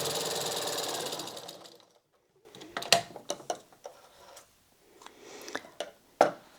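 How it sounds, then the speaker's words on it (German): A domestic sewing machine runs a steady, close zigzag stitch of about 3 mm width and very short stitch length along both sides of an Advent calendar panel, then stops and leaves a few scattered handling clicks and taps. "Und nun steppen wir das Ganze auf beiden Seiten mit Zickzack ab."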